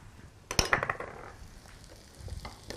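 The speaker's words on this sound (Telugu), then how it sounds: "వేసుకున్న ఉల్లిపాయలు అండ్ వెల్లుల్లిపాయలు 2 బటర్లో పర్ఫెక్ట్గా కుక్ అవుతున్నాయి" Sliced onions and garlic cooking in butter in a pan: a few sharp utensil clinks and scrapes as they are stirred, then a soft, steady sizzle underneath.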